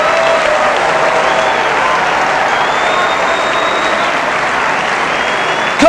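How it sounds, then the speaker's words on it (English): A church congregation gives a loud, sustained round of hand clapping, a thick, even roar of applause that carries on without break, with a sharp sound right at the close. "Give the Lord a hand clap."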